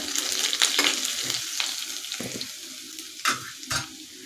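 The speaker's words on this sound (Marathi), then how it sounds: "लसूण आपल्याला थोडासा लालसर होईपर्यंत परतून घ्यायचा आहे जास्त पण लाल नाही करायचा" Garlic fries in oil in a pan until it turns reddish, a continuous close sizzle with a few distinct stirring scrapes and taps toward the end.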